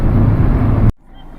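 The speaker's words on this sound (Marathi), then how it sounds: "गाडी चाललेली आहे" A Kia Sonet petrol car driving on the road gives a loud, steady low road-and-engine rumble that cuts off abruptly before a brief near-silence.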